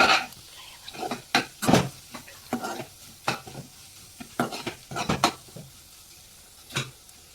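A spoon stirs ground black pepper into a homemade prawn curry in a pan, producing a series of close scraping and knocking strokes in irregular bursts, with a soft sizzle between them.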